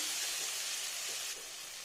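Potatoes fry in oil in a wok, a steady close sizzle that dips slightly in loudness partway through, with no voices.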